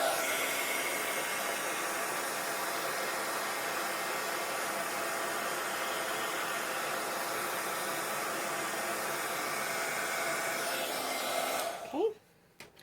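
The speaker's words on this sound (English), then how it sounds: "Here it's gonna get loud. I'm gonna use the heat gun." A heat gun blows steadily and loudly for about twelve seconds while drying acrylic paint over butterfly stencils in a Bible, a broad airy roar that cuts off abruptly near the end.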